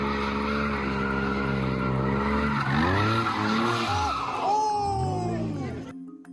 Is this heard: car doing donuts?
yes